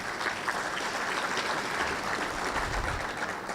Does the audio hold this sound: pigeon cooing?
no